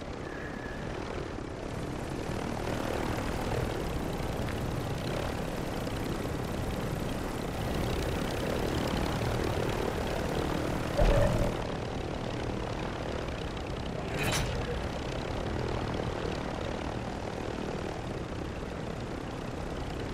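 A helicopter flies in a battle royale video game, its engine and rotor giving a continuous droning whir that holds steady and fairly loud throughout, with a brief sharp blip partway through.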